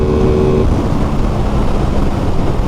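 Loud, steady engine roar of an Aprilia Tuono twin-cylinder motorcycle at speed with heavy wind and road noise, a brief tonal whine early on as the gear changes.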